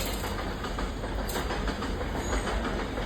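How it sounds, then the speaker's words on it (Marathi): A steady rumble of a freight train rolling past with rhythmic clattering of wagons on the rails, continuous and fairly distant. "आणि ती मालगाडी आहे"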